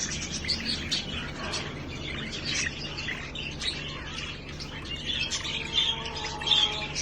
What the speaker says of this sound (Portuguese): Aqui já são os filhotes de periquitos.